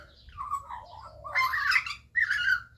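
A baby Australian magpie calls in a run of warbling, chirpy notes, close and fairly loud, with a brief pause before a final burst; no talk is heard.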